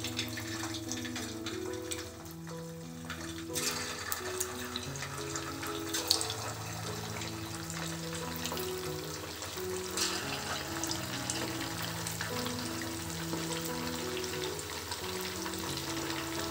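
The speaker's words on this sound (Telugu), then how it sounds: "మనం డీప్ ఫ్రై చేసుకుందాం. ఆయిల్ మీడియం హీట్ పెట్టుకోండి, అప్పుడే బాగుంటుంది. ఒక్కొక్కటే వేసుకుందాం." Chicken 65 pieces deep fry in oil on medium heat, a steady dense sizzle and bubbling that runs the whole time, close and moderately loud, with faint tonal background music underneath.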